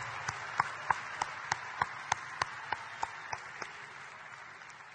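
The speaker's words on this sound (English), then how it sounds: "Will you join me in a round warm of applause and congratulations to all of our graduates?" Applause for graduates at a winter university commencement ceremony: a broad wash of crowd clapping with one nearby pair of hands beating in an even, steady rhythm, tapering off toward the end.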